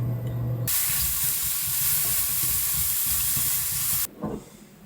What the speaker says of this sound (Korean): 이제 아침 준비를 하고 있는데 저는 버섯을 구워서 먹을 겁니다